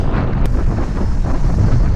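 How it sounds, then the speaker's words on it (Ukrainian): Cold wind roaring across the microphone, a steady, loud buffeting rumble that fills the clip with no voices. "Вітер холодний капець"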